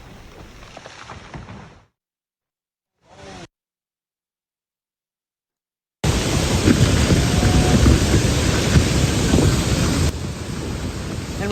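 Heavy rain pounds down during a storm, a loud dense continuous roar after a brief stretch of quieter broadband noise and silence.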